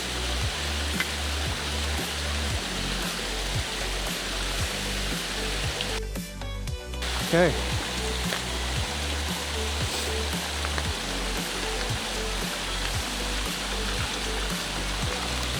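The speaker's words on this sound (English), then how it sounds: "Drop your hose into the water, and all you gotta do is just start pumping." A hand pump forces water through a ceramic filter element at a motocamping stop, producing a steady rhythmic pumping whoosh with regular strokes, close and continuous, with running water noise throughout and a brief pause midway.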